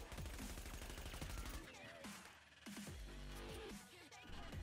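In the video game The Division, a Vector submachine gun fires a fast continuous burst of rapid, evenly spaced shots, followed by fainter rattling and echoing tails at a low overall level.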